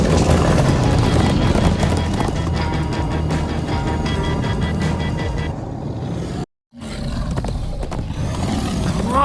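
Horses gallop in the Minecraft: Story Mode video game, a loud rapid clip-clop of hooves with rumbling game sound, broken by a brief dropout near the end before the hoofbeats resume.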